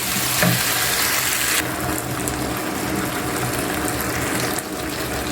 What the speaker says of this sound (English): The next thing we're going to add is zucchini. Stir that as well.